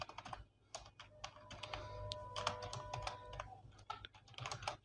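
Quick, uneven bursts of keystrokes clatter on a computer keyboard, close and fairly quiet, with short pauses between runs of typing.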